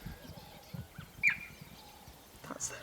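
A single high, bird-like chirp from cheetahs in the Namibian bush rings out mid-distance, followed by a fainter call near the end, with a soft outdoor background beneath.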